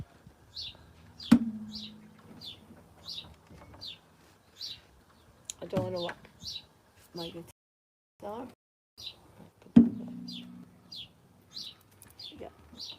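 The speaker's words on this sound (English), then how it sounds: "The birds were actually joining in." Small birds chirp in a steady, evenly spaced series of short high tweets nearby, while someone speaks and two sharp guitar strums ring out.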